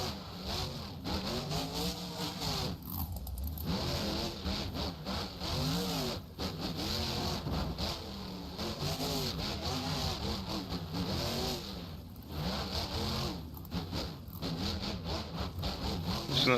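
A monster truck engine revs hard and continuously at a freestyle competition in Daytona, Florida, its loud, close roar rising and falling in waves as the throttle is worked.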